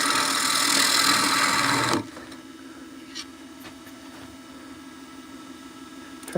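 Woodturning gouge cutting into spinning wood on a lathe, a loud broadband cutting hiss for about two seconds that stops abruptly, leaving a steady low lathe hum with a couple of faint ticks.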